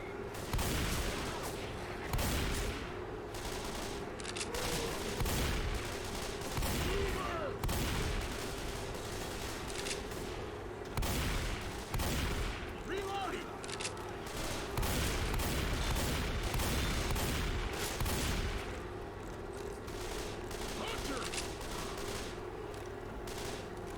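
Sniper rifle fire against a wave of zombies in the Left 4 Dead video game, with dense, rapid, loud shots and bursts packed close together throughout, barely any gaps between them.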